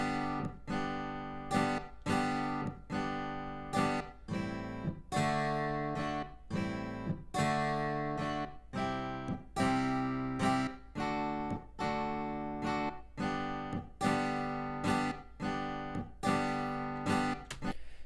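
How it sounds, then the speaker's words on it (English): A plucked string instrument strums a song's chord progression in a steady rhythm, chords changing every few beats, moderately quiet and alone. "Now the chord progression by itself is going to sound like this."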